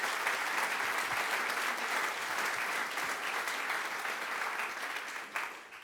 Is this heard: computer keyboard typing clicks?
no